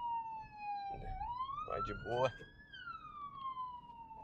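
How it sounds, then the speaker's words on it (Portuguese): An ambulance siren wails while passing on a city street near a hospital, a faint continuous tone gliding up and down, with brief speech over it and traffic rumble below. "Ó, passando uma ambulância,"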